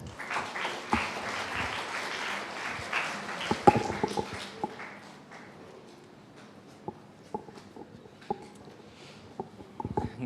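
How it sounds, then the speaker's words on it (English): Audience applause for a school Business Club at a club expo, a burst of clapping that thins out after a few seconds into scattered, isolated claps and light taps. "So please give them a round of applause."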